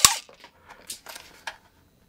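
A camera drone fires plastic bullets: one sharp, loud snap opens the sequence, followed by several fainter clicks and small pops from the firing mechanism, close and with no talk.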